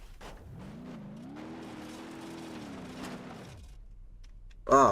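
A Lamborghini engine in the BeamNG Drive driving game hums steadily at a low, slightly wavering pitch for a few seconds, then drops away, followed by a brief louder burst at the end.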